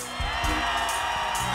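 A live chutney soca concert crowd screaming and whooping loudly from the start, a dense sustained roar with bursts of shouting rising above it.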